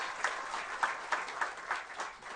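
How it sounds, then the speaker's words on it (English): Audience at an office inauguration ceremony gives a round of applause, a soft, distant wash of clapping with faint rhythmic pulses, fairly quiet throughout. "I think they deserve a round of applause for what they did during those trying times"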